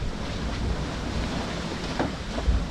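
Steady wind noise with surf-like wash at sea aboard a sailboat in about 20 knots of wind, a continuous broadband rush with slight gusts and no talk.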